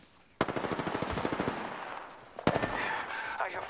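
Rapid automatic gunfire in the battle royale video game Apex, a close burst of evenly spaced shots followed by a second sustained volley with sharp impacts and game effects.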